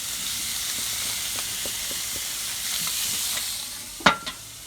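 A butterflied lamb leg sears skin side down in a hot pan, giving a steady loud sizzle and hiss with small crackles, ending in a couple of sharp scraping knocks.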